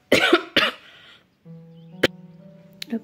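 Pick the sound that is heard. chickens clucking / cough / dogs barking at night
cough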